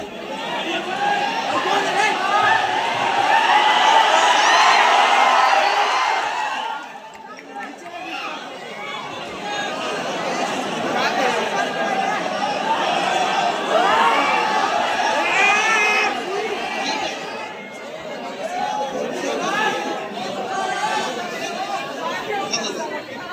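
A large, dense crowd at a public gathering chatters and shouts continuously, loud and close, with a short dip before the noise swells again and voices call out throughout.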